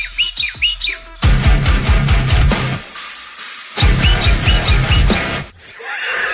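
Loud, bright bird song in rapid repeated phrases, two long rolling bursts with a short pause between, close and clear with no voices.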